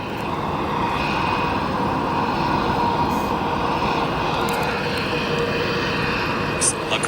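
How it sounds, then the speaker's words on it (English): Spirit Airlines Airbus A321 airliner at Chicago O'Hare Airport, its engines giving a steady, loud broadband roar that holds even throughout, with a faint higher whine riding on top. "This aircraft you're currently viewing, an Airbus A321 operated by Spirit Airlines"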